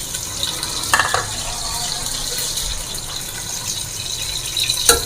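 Two finely chopped onions frying in a pan, stirred while browning for a mutton kidney dish; a steady sizzling hiss close by, with a couple of brief scraping clinks of the spoon against the pan.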